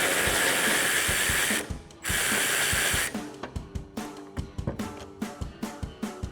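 A hand ratchet turns a 7mm socket to back out a bolt on the rear bumper of a 2019-2024 Chevrolet Silverado 1500, first in long continuous buzzing runs and then in a steady train of sharp, separate clicks, close up.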